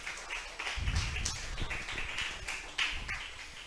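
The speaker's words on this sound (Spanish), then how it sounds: "Vamos a brindarle un fuerte aplauso a nuestro Dios." A church congregation breaks into applause, a dense wash of many hands clapping at once that stays loud and steady throughout, with scattered voices mixed in.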